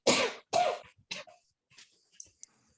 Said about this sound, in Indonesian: Maaf, sedang batuk, Pak.